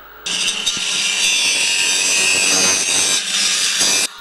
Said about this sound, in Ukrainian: саме вирізблює болгаркою технологічні отвори для майбутнього виробу